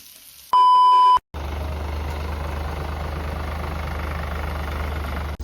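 A tractor engine idles steadily and loudly out in a farm field, a continuous low rumble that runs on after a brief electronic beep near the start.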